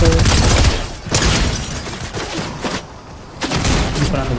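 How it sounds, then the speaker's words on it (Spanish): Rapid bursts of gunfire crack loudly in a Fortnite trios match, several volleys separated by brief gaps, close and dense, with faint voices beneath. "Disparando, bro."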